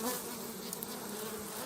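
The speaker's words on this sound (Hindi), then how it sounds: "साथियों, ये जो मधुमक्खियों की स्थिति आप देख रहे हैं," Honeybees crowd and buzz at a hive box entrance in hot sun, a dense, steady droning hum close to the listener, with no voices over it.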